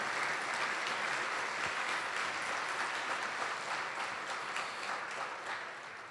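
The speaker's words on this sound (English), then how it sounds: "please join me in a round of applause" An audience at a Hispanic Chamber of Commerce gala breaks into sustained applause, a broad, even roar of many hands clapping in a large room that holds steady and begins tapering at the end.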